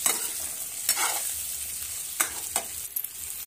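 Potato bhaji with coriander sizzles steadily in a pan, with a few scraping stirs breaking through the constant close frying hiss.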